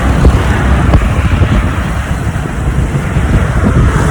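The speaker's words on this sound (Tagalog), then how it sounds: "Sarap ng hangin dito" Steady wind gusts buffet the microphone beside a bridge, a loud broadband rush with low rumbling swells and no voices.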